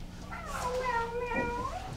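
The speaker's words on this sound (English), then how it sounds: "Pardon the office cat." A cat meows in an office with a long, drawn-out call that rises and falls, fairly close and alone over low room noise.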